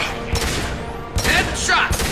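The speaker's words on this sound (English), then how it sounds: "Firing a high-impact shot." A high-impact gunshot in a video game: a few heavy, booming shots with sharp whooshing tails, loud and close, a voice faintly present underneath.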